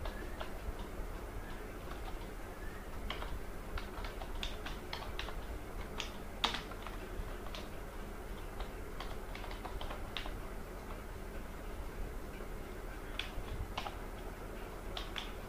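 Arduino code being entered on a computer keyboard: irregular light key clicks and taps, quiet and close, scattered through a low room hum with no talking.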